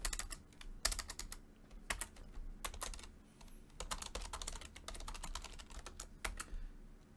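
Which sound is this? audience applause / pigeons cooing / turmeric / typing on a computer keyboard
typing on a computer keyboard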